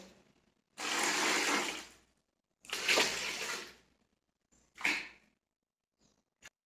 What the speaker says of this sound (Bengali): এখন আমি গরম জল করে নিয়ে চলে এসেছি, একটু একটু করে ঠান্ডা জলে মিশিয়ে দেবো।